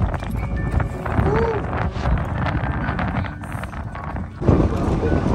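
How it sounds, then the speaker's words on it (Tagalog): Strong, steady, cold winter wind in the UK buffeting the microphone with a constant low roar, broadband rushing noise throughout and a louder gust near the end. "Grabe yung hangin dito."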